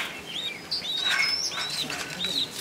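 A pigeon beats its wings close by in a continuous flutter with a few faint chirps mixed in, and no one speaks.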